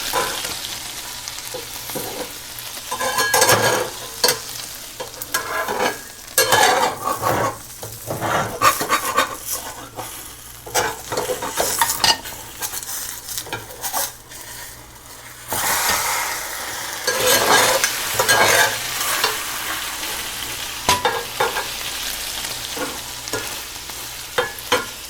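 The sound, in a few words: onion egg pan-frying and being flipped in pan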